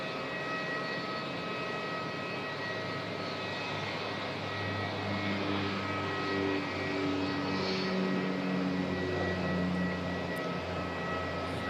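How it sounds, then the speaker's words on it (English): An Air Chathams Saab turboprop takes off at Auckland Airport with a sustained propeller drone and steady tonal whine that holds throughout and swells slightly in the middle, heard from a distance at moderate volume. "Chatham Saab's going to head off first"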